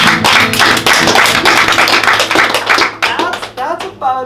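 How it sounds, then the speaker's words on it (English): Audience members at an improv theatre festival show clap loudly and close by in a brisk burst of applause that thins out and stops toward the end, with brief voices near the close. "By round of applause, who has been in love and fell in love with someone else?"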